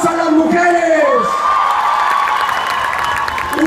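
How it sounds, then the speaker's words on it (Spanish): A crowd at a PRI gubernatorial campaign rally in Oaxaca cheers loudly with rising shouts and whoops, then settles into sustained clapping and crowd noise, loud and close throughout. "¡Un aplauso a las mujeres!"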